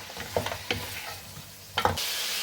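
Mutton pieces for karahi frying in oil with salt being mixed in: a few sharp, close stirring clatters against the pot, a soft sizzle between them, and a brief louder hiss at the end.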